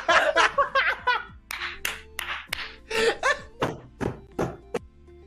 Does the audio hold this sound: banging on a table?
yes